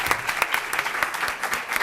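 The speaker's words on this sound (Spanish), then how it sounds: "Un aplauso," Audience applause at a happiness forum event fills the room, steady dense clapping throughout with rhythmic bursts, close and fairly loud.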